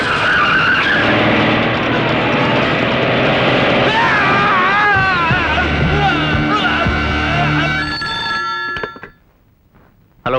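A car skids with a loud, long tire screech in a Telugu film scene, over a dramatic music score that swells and then cuts to near silence.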